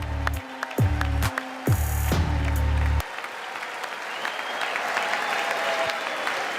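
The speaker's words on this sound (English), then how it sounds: "More clapping." Applause from a large audience at the State of the Union address in Washington, DC, broad clapping that swells into a dense roar, with tonal fanfare-like bands in the first three seconds before the crowd noise carries on alone.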